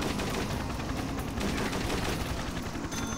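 An automatic minigun fires nonstop in the video game Dead Trigger 2, producing a dense, rapid rattle of shots that stays loud and steady throughout.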